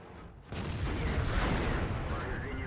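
Tank cannon fire in a World of Tanks battle, a Jagdtiger among the vehicles: a sudden loud blast about half a second in, then a dense rumbling wash of battle noise that lingers for the rest of the moment.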